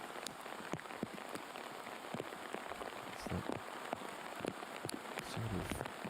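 Heavy rain pours down on a golf course during a rainy round of a women's professional tournament, a steady dense hiss with scattered sharp drop impacts throughout, no talk.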